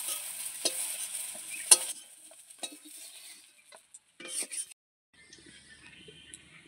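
Fried eggplant is stirred and lifted from a frying pan with a utensil, giving a soft sizzle and several scraping, clinking strokes that thin out into near silence.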